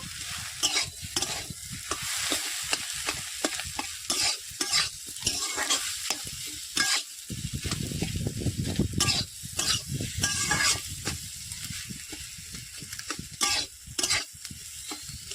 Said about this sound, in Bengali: দিচ্ছি হলুদ গুঁড়ো, দিচ্ছি লঙ্কা গুঁড়ো, সবগুলো ভালো করে ভেজে নেব